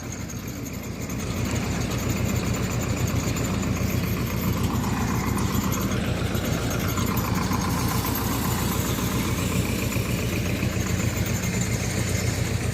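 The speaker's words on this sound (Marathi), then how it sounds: "ते 475 डी आहे. ट्रॅक्टर पाहू शकता आपण." Sonalika 475 DI tractor engine idling at a second-hand tractor market, a steady close rumble that runs unbroken for the whole stretch with no talk over it.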